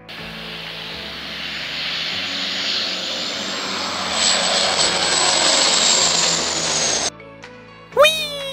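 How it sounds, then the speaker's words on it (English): A firefighting airplane flies over a fire with a loud, sustained engine roar that builds slightly before cutting off abruptly near the end, followed by a brief unrelated sound. "They used a plane to put out the fire."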